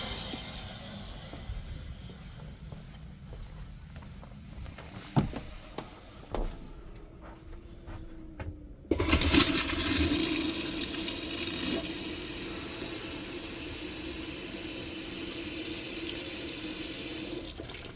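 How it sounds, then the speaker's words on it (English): Water from a tap runs into a box van's water system. Faint clicks and knocks come first, then a loud steady rushing gush starts about halfway through and continues, close and alone. "Just get the water on."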